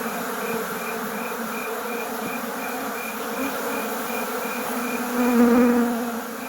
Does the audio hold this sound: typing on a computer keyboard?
no